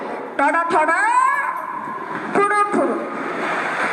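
A voice imitates a train with two drawn-out, wavering horn-like calls, loud and close, separated by a short pause with room noise between.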